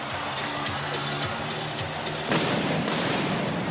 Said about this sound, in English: So they have fireworks here in the Target Center, a la Chicago Stadium.